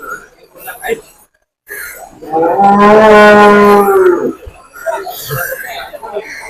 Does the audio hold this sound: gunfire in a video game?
no